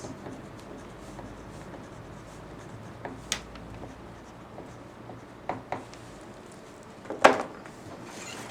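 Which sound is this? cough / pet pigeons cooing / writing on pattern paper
writing on pattern paper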